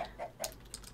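Faint, close clucking from chickens in the video game Rosewood, a few soft short clucks spread across a second.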